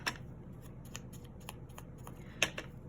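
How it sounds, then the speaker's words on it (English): Scissors giving a few quick, faint snips at the edges of a handmade paper tag for a journal, set apart by brief pauses, with one slightly sharper cut near the end; close and quiet. "let's do a little snip on that one, there"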